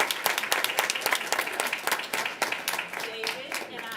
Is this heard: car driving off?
no